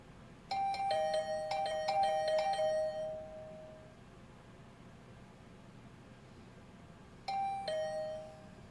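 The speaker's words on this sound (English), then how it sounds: "The usual morning announcement was drowned out by the sound of my doorbell ringing over and over." A doorbell in the video game The Hundred Line -Last Defense Academy- rings over and over, a burst of rapid chimes, then a pause before another chime starts, over a soft background hiss.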